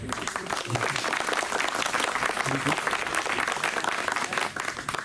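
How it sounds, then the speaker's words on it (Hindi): A crowd at an Independence Day celebration in Khandwa, India applauds steadily, with dense continuous clapping from many hands filling the space, and faint voices underneath. "तालियों का आवाज भी आना चाहिए।"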